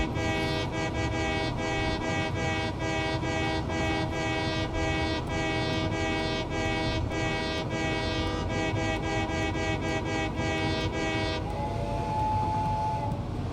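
A video-game train whistle blows as a loud, sustained, chord-like blast for about eleven seconds, then cuts to a softer lingering tone, with no talking.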